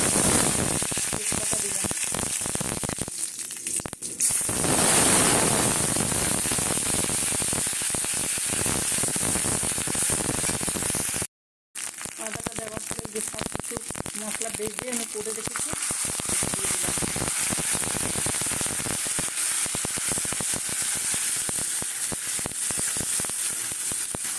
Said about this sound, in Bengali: চলো এইভাবে আমি ভেজে নিই এই চারটিকে